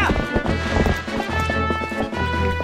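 A horse gallops in the video game The Legend of Zelda: Twilight Princess HD, with rapid rhythmic hoofbeats close by and a whinny over game music.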